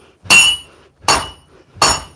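A hammer strikes hot metal while a dagger is forged, giving three loud, ringing blows spaced under a second apart, each clang decaying quickly, with no talk.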